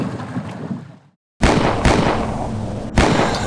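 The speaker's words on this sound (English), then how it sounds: "And we hear gunshots." Sharp bursts of gunfire crack out in the distance in Colombia over a rough background, with several shots separated by a brief gap of silence.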